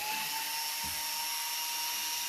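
Power screwdriver whirring steadily while backing screws out of the top panel of a Gaggia Velasca super-automatic espresso machine, a continuous high-pitched motor whine close by with a brief thump partway through.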